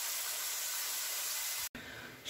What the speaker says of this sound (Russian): Шкварчат бифштексы